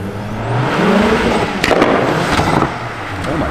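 A turbocharged car's engine revs hard and roars as it accelerates, with sharp pops and crackles near the middle of the pull.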